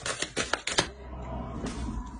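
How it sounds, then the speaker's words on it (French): A tarot card being drawn and handled, giving a quick run of crisp, close card flicks and snaps in the first second, then a soft rustle with no speech. "On va rajouter une carte avec le tarot."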